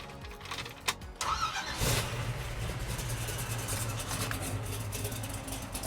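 After a couple of clicks and a brief crank, a 1968 Chevrolet Camaro SS engine with Flowmaster exhaust fires up and settles into a low, mellow rumbling idle, close by.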